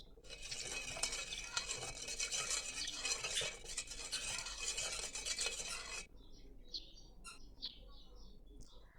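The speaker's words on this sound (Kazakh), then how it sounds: "кішкене құмшекер және содамызды салып, жақсылап араластырамыз." Sugar, salt and baking soda are stirred into a dough mixture for flatbread, giving a steady, busy scraping and swishing for about six seconds before it stops and birds chirp faintly in the background.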